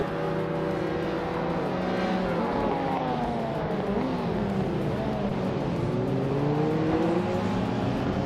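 Race cars in a racing video game roar off the line at the start, several engines droning and rising in pitch together, steady and loud throughout.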